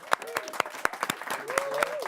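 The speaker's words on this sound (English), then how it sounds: "Let's have a round of applause, everyone." Scattered clapping from a small studio audience, a few distinct claps with a voice speaking over them.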